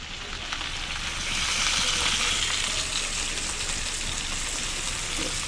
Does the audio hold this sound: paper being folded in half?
no